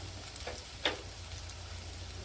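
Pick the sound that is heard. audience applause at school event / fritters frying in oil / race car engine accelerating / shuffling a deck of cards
fritters frying in oil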